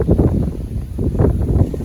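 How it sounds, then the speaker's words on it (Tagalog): Strong gusting wind buffets the microphone in low, rumbling surges, steady and loud with no voices. "alam na yan ng mga taga sa Riyaya mga kagulay kung gaano kalakas ng hangin dito."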